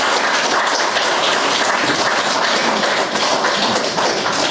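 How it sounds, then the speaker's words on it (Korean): An audience at a book launch event breaks into loud, dense applause, a steady wash of many hands clapping close by, with no voices over it. "여러분 지금까지 소개해 주신 분들에 대해서 박수로 한번 분위기를 띄워주시면 고맙겠습니다."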